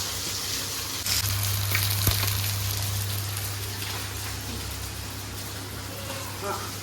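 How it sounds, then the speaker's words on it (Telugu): Fish pieces deep frying in oil, a steady bubbling sizzle under a low hum, with a brief clatter near the start and no talking. "15 మినిట్స్ కొంచెం బాగా డీప్ ఫ్రై చేసుకోవాలి."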